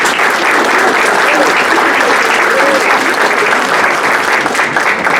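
Loud, steady applause from a seated crowd at an honor society induction ceremony, a thick unbroken roar of many people clapping that holds at full level throughout.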